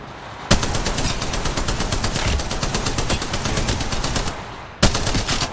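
Rapid automatic gunfire in the mobile shooter Apex Legends Mobile, loud and close, one long unbroken burst of sharp, evenly spaced shots, a brief pause, then a second burst starting.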